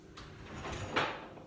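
Kitchen drawer being pulled open and pushed shut, a short soft slide followed by a sharper bump, fairly faint.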